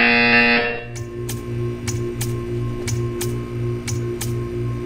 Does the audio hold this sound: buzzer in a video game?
yes